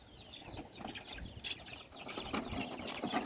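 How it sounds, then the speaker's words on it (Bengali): Fayoumi chickens and young chicks on a rooftop hobby farm, with scattered clucks and peeps close by, some wing flapping and no voices. "এখানে 30টা বাচ্চা আছে"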